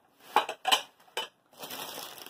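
Thrifted white ceramic dishes clink and clatter as they are handled and set down, with a few sharp knocks followed by a softer, continuous rattling of stacked pieces close by.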